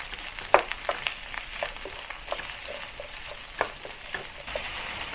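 Chopped garlic frying with onion in a pan for Hong Kong borscht, producing a continuous close sizzle broken by irregular spatula scrapes and small pops; no talking.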